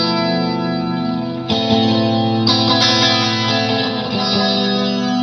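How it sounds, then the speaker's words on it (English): Guitar played through an EC1 tape echo pedal modeled on the old Echoplex, with repeating sustained tones smeared by echo and a steady noisy hiss underneath, loud and continuous with a few picked attacks. "The EC1, it even has the sort of the noise of the old Echoplex."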